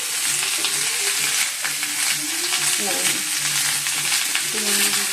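Spices with turmeric fry in a pan, a loud, close, continuous sizzle mixed with the scraping and knocking of steady stirring.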